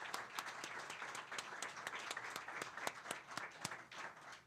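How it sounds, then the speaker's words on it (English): A faint, distant audience applauds panelists at a regional small-business summit in Indianapolis, giving steady, dense clapping throughout with no voices. "Let's give our panelists a round of applause."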